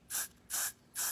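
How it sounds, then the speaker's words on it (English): Aerosol hairspray sprayed onto a wig in three short, even hissing bursts, close and fairly soft, with no voices. "I don't use as much product spraying it like this."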